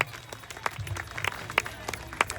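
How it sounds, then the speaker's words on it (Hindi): Scattered clapping from an audience at a school annual day celebration, quiet and sparse with a few sharper claps over a low murmur of voices. "तालियों की गड़गड़ाहट होनी चाहिए।"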